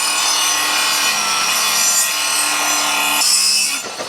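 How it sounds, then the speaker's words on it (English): A reciprocating saw cuts through whole tree branches while clearing an overgrown entrance driveway on raw land, a loud, steady buzzing rasp that runs continuously with no talk, easing off briefly near the end. "I have a sawzall. I mean, a reciprocating saw."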